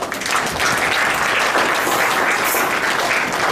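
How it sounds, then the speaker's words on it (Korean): Steady, loud applause from a meetup audience in Seoul for a presenting team, a dense wash of many hands clapping continuously throughout. "그 발표해 주신 아피스 팀에게 박수 한 번만 더 부탁드립니다"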